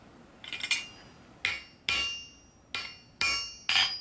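A hammer taps a punch against an anvil while a wall hook is forged, giving about six sharp, bright metallic strikes at an uneven pace. Each ring decays briefly, and no one talks.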